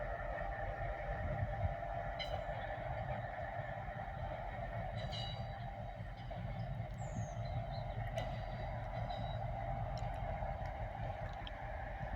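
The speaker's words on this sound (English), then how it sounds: "Freight trains are so long." A long, steady low rumble of a freight train rolling past, with faint metallic clanks and squeaks scattered over the constant drone.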